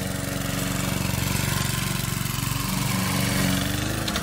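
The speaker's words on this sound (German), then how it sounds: "ich probiere meinen neuen Rasenmähertraktor aus" A ride-on lawn mower tractor runs close by with a loud, steady, rhythmic chugging engine drone that pulses evenly throughout, shifting slightly in pitch near the end.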